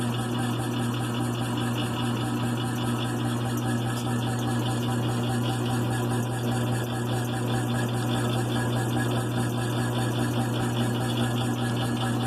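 A 1928 USACO 220-volt single-phase air compressor runs steadily, a constant mid-pitched motor hum with a fast mechanical chatter, close and even in level for the whole stretch.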